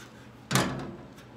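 A lightweight aluminum track sled lid, riveted along its edge, shuts with a single soft thump followed by a brief rattle, then fades to quiet.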